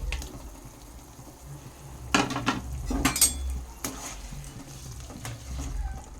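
Fried pakoras tipped into simmering chilli chicken gravy in a metal pan, with several sharp clinks of a spoon against the pan and soft bubbling and stirring underneath, close and alone.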